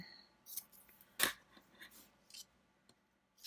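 Scissors trim a small piece of paper for a journal embellishment, a few quick close snips with a crisp loud cut in the middle, then quiet.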